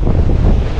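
Strong gusting wind on an exposed hilltop at Ramakkalmedu in Idukki, roaring and buffeting directly against the microphone in a brief, loud, low rumble with no voices.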